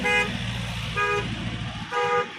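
Vehicles pass on a wet, rainy hill road near Darjeeling's tea gardens, with three short car-horn toots spaced about a second apart over a continuous engine and road rumble.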